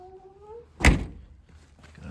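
A door on an original-color Volkswagen Westfalia bus swung closed without latching, giving one dull thunk with a short rattle, preceded by a faint whine and followed by quiet shuffling.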